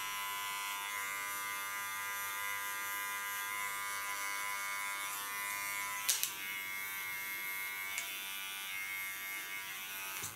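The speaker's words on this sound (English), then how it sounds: "A small clipper, it's Theo clipper." Small electric hair clipper buzzing steadily while cutting hair at a salon during a cut and color, a close, even hum with a couple of brief sharp clicks partway through.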